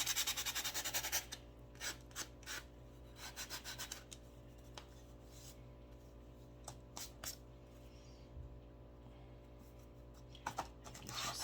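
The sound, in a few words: sanding a cut craft piece to rough it up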